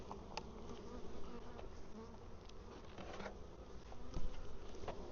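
Honey bees swarm and buzz around a large hive, a dense, steady drone close by with individual insects flitting past in brief louder passes.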